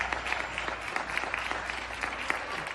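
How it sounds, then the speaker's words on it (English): People on balconies in Europe during the coronavirus outbreak applaud medical staff with a steady, dense patter of many hands clapping, heard from a middle distance for several seconds. "people going out on their balconies and applauding the medical staff"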